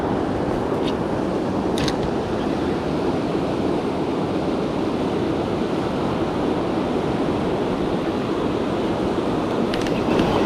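Rushing river rapids during bass fishing, a steady broadband roar of water that fills the whole clip at close range, constant and loud with no breaks.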